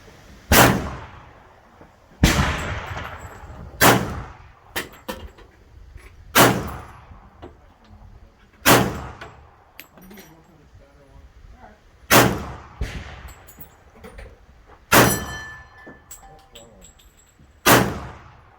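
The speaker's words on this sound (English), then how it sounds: "So sit back, enjoy the few shooting videos" A 1911 pistol fired outdoors, eight heavy, widely spaced shots, loud and close, each with a booming echo decaying over a second or so.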